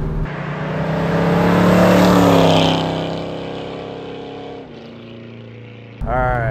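A 1970 Chevrolet Chevelle SS 454 V8 driving under power, a loud close engine roar that rises and swells, then eases to a lower drone before a sharp shift in pitch at the end.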